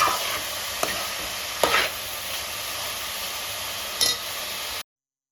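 Onions fry in a pan with salt added, a steady broadband sizzle with a few louder scraping stirs, close and continuous, ending abruptly; no talking.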